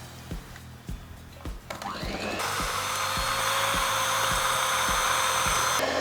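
An electric hand mixer whirs steadily through ginger cake batter with butter, preceded by a few knocking taps, then running loud and continuous at a constant pitch.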